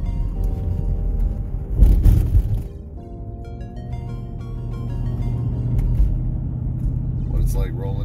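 Ford Expedition truck rolling down the road, a steady low engine and road rumble heard from inside the cabin, with a brief louder bump and people talking throughout.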